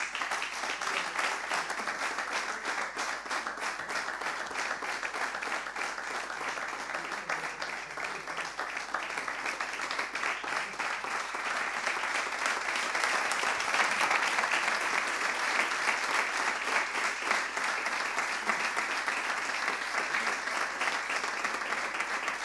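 Long, strong and steady audience applause for an award recipient at a federation medal ceremony, a dense even wash of clapping that swells slightly midway and continues throughout.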